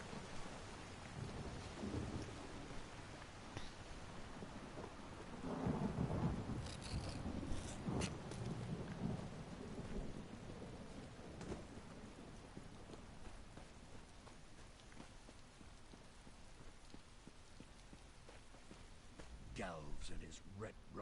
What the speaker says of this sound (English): This is quite the storm.